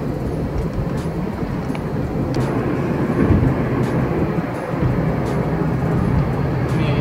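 A VW Polo 1.2 TSI turbo small car accelerating hard at speed, a steady broadband engine and road roar filling the cabin throughout, loud and continuous with no talk.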